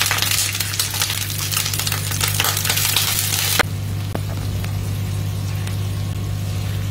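Ant eggs fry together with an omelette in a hot pan, a loud, steady crackling sizzle with popping that suddenly drops to a quieter, softer hiss partway through, under a constant low hum.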